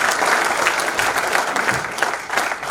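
An audience at a forum claps after a recited poem, a dense, steady burst of applause that stays loud throughout.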